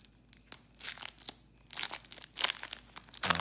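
A football trading card pack is torn open by hand without scissors, giving close, irregular crinkling and ripping bursts of foil wrapper over about three seconds.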